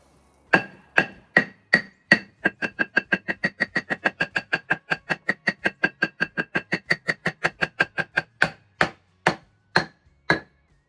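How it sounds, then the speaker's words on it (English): Rapid hammer taps on a scored board, about forty sharp knocks, starting spaced, speeding into a steady quick rhythm, then slowing again at the end; close and loud. "tap it with a hammer."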